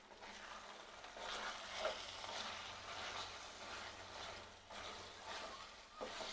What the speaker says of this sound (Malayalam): ഇനി ഇതെല്ലാം കൂടെ ഒന്ന് മിക്സ് ചെയ്യാം